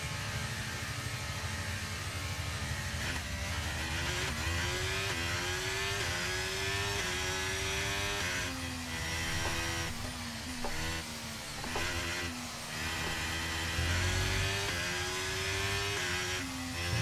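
Race car engine in the F1 23 video game, a loud continuous high-pitched whine that climbs and drops through gear changes, alone throughout.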